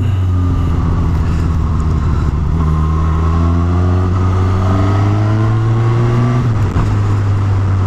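A 2019 Suzuki Katana 150 hp motorcycle engine droning loud and close while riding, its steady hum rising in pitch through gear changes and then dipping briefly near the end.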